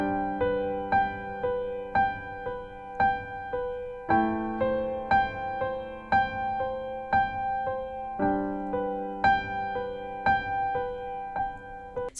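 Piano notes played in a higher register, a steady sequence of single notes and chords ringing one after another, clear and close.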